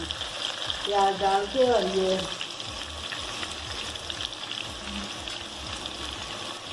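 Onions fry in hot oil in a pot on a stove while a Shab Daig is prepared, giving a steady close sizzling hiss throughout. A voice speaks briefly near the start.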